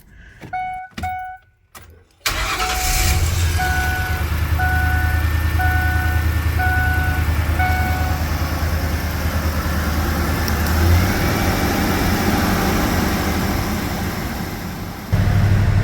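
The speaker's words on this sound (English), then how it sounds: "I'm going to start this thing so I can add some transmission fluid to this." A few clicks and a cranking catch, then a car engine fires up and settles into a loud, steady idle with a faint repeating beep.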